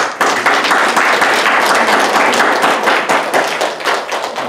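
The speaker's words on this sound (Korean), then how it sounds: "목사님 박수 한번." A Korean church congregation claps for the pastor at a Sunday service, loud, close, dense hand-clapping with sharp individual claps standing out, continuing steadily and easing slightly at the end.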